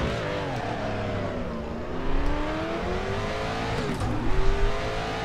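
Race car engine in the RaceRoom DTM 1992 game at Sonoma revs steadily at the race start, its rising and falling pitch sweeping up through the gears, loud and continuous with no talk.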